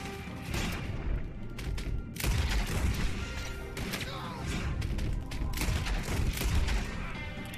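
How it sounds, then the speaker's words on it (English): Cannons firing in Red Dead Redemption 2 during an assault on a hideout, a dense, continuous barrage of booms and crashes layered over loud battle noise, with no pauses between blasts. "Shoot some cannons, pretty."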